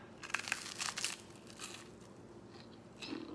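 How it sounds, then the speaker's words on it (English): Someone bites into a homemade cannoli crunchcake with a cinnamon-flavored cannoli-shell crust, giving a few quiet crisp crunches and crackles up close followed by softer chewing, with no talking. "Wanna hear the crunch?"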